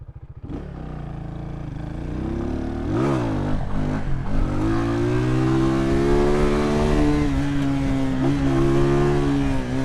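A motorcycle starts with a throaty idle, then revs up and settles into a steady rising engine drone as it rides off. It stays loud and close throughout, on a ride to Annotto Bay, St Mary after Hurricane Melissa.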